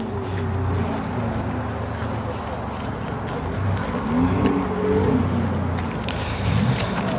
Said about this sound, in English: Bunch of GT2s, GT3s pulling in.